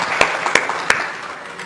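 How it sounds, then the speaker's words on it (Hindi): Three sharp hand claps ring out at a brisk, even pace during a devotional religious discourse, over a faint room murmur. "वो अपने आप ही ताली बजा रहा था तो मैं बजा देता हूं।"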